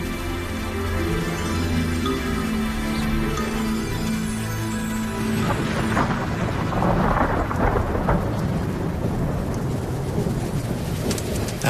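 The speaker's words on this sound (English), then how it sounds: "After months of drought, it's finally raining." Thunder rolls through a desert downpour, deep rumbles building beneath a steady hiss of heavy rain that grows denser and louder partway through, with no voices.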